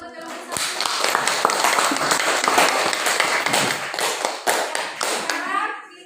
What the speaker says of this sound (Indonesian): Ya, tepuk tangan dulu untuk yang bisa.